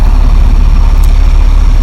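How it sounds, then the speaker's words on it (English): A big transport bus idling, a loud, close, steady low engine rumble with an even throb that holds unchanged throughout. "Actually, they transport people with these big buses."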